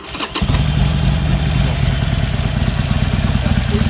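A Harley-Davidson 883 Iron motorcycle with its stock exhaust starts up close by and settles into a loud, steady, throbbing idle.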